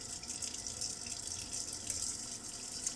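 Cold tap water runs steadily from a kitchen faucet, a continuous bright hiss and splash heard alone without talk.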